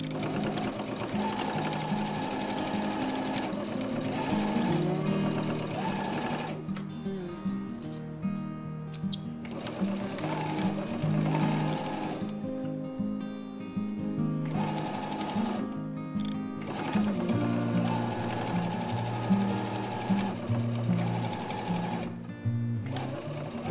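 A sewing machine stitches the fabric seams of a panettone holder in bursts of rapid, close mechanical whirring and clatter, pausing briefly between runs.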